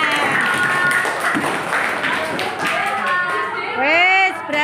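Children in a classroom clap together over chatter and voices, the clapping scattered and mixed with talk, with a higher childlike voice rising near the end.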